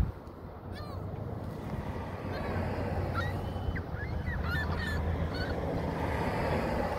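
Canada geese honking in a scuffle with seagulls, sharp scattered calls rising over steady wind and water noise outdoors, with bird cries growing busier toward the end.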